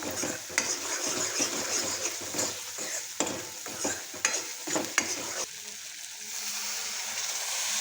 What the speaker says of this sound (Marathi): मसाला मसाला चांगला परतून घ्यायचा